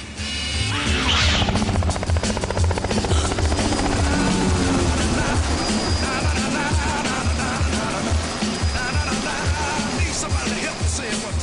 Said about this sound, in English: The helicopter's been scrambled by ATC.